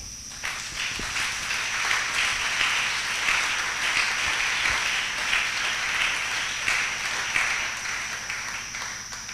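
A church congregation applauding to acclaim the Lord during a prophetic service. Continuous, even clapping from a large crowd fills the whole stretch at a steady level.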